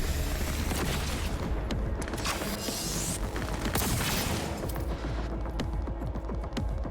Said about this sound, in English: Someone's been shooting me from the right here